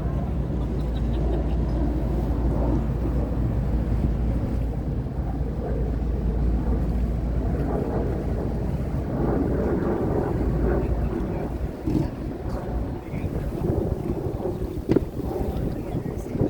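A tour boat underway along the Seattle waterfront, heard from the top deck as a steady, loud low engine rumble mixed with wind buffeting, continuous throughout with no talk.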